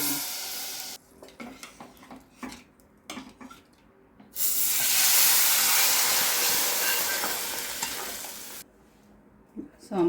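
Urad dal, mustard seeds, cumin and asafoetida splutter in hot oil for a South Indian sambar, a loud, close, steady sizzling hiss lasting several seconds, preceded and followed by quieter clicks of stirring.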